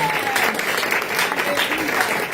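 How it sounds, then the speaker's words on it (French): A church congregation applauding during a French-language worship service, a short burst of dense clapping with voices mixed in, close and continuous. "Acclame Jésus."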